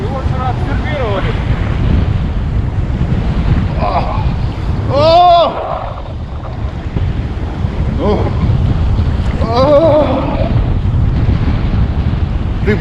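Strong wind roars against the microphone over crashing storm surf on the Black Sea shore at Anapa, a steady loud rush throughout, with occasional voices shouting faintly through the gusts.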